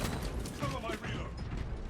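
A heavy bolt rifle being reloaded in a video game gives off soft mechanical clanks and creaking metal movement, fairly faint under a steady bed of game ambience.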